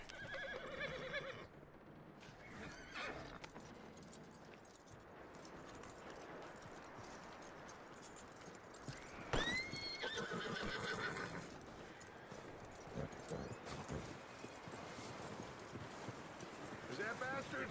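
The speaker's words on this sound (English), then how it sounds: "That looks like a decent horse." A horse in the western video game Red Dead Redemption 2 whinnies loudly, with clip-clopping hooves and outdoor wind around it, while characters talk intermittently.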